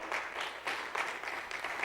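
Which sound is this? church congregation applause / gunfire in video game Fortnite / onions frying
church congregation applause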